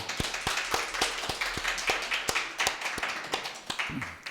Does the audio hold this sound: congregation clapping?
yes